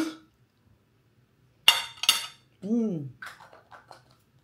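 A spoon clinks and scrapes sharply a few times against a plastic container of salted pistachio spread, close and crisp in a quiet room, with a brief voice sound and small taps afterward.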